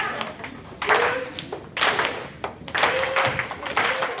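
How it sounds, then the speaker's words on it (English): Hands clapping in a motor dance exercise, a few separate claps spaced about a second apart, fairly close, with a voice talking between them. "Try to clap your hands."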